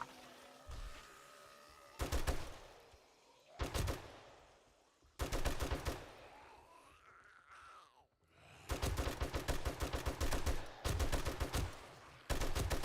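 Enemies in the survival game 7 Days to Die open up with full-auto gunfire, arriving as several loud sustained bursts separated by short pauses, with a swelling whoosh in one gap.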